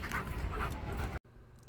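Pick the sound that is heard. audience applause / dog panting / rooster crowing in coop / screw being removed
dog panting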